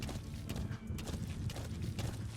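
Horse hooves clip-clopping in a steady galloping rhythm in the video game Metal Gear Solid V: The Phantom Pain, close and continuous under a low ambient bed, with no talking.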